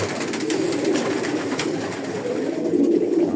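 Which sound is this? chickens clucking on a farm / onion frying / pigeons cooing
pigeons cooing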